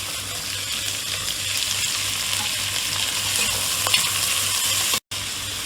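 Finely chopped beans and capsicum sizzle as they are stir-fried in a pan for egg fried rice, a steady, loud hiss with faint stirring scrapes and a brief cut near the end.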